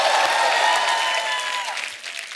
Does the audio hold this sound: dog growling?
no